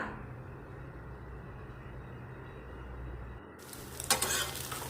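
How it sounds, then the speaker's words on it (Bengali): An egg omelette fries in a frying pan, a steady hissing sizzle held close and even, brightening near the end with a few sharper crackles. "ফ্রাই প্যানে ডিমের অমলেট করতে আরম্ভ করে দিলাম"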